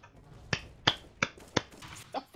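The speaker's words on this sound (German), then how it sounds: "Das war Klatschen!" A few sharp hand claps ring out one by one during a CS:GO gaming session, five distinct close claps spaced roughly a third of a second apart over faint background noise.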